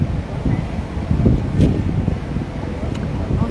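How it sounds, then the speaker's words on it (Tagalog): Steady wind gusting across an outdoor microphone, low rumbling buffets running throughout at moderate loudness, with brief voices in the background. "Oh, sarap ng hangin."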